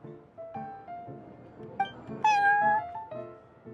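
A cat meows repeatedly in a video game café, several short plaintive calls in a row, close and clear, with one louder, higher drawn-out meow in the middle.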